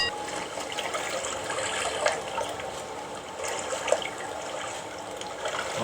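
River water flows steadily at night in the horror game Outlast II, a soft continuous rush and trickle with a few small splashy peaks.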